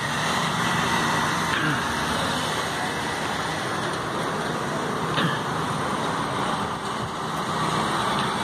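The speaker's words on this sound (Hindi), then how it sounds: "देख सकते हैं एक एक करके बाइक जा रहा है।" Motorbikes passing one by one along a quiet town street during lockdown, a steady engine drone with a few faint swells as bikes go by at moderate distance, no talking.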